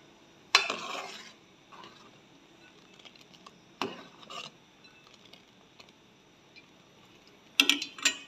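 Rice flour semai dough being stirred in a pot: sparse scraping and clinking of a utensil against the pot, a few distinct bursts separated by quiet gaps, close and fairly faint.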